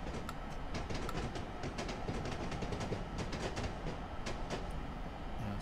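An ALP-45DP locomotive in Train Simulator 2017 runs through an old railway tunnel under Bergen Hill on the North Jersey Coast Line, giving a loud, continuous rumble with a rapid, rhythmic clatter of wheels over rail joints.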